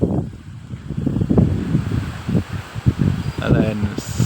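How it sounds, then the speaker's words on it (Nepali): Strong wind gusts across an open hilltop at Nagarkot, rumbling and buffeting the microphone in uneven surges, while a person talks through it. "हावाहुरी मजाले लागेको छ है।"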